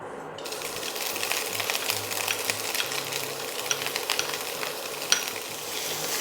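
Finely diced smoked salmon sautés in butter in a pan, giving a steady, close crackling sizzle with light stirring and a few sharp clinks throughout.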